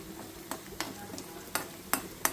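Betel leaves frying in a pan, with soft crackling sizzle and a few sharp scraping stirs at irregular intervals, fairly faint and close, no voices.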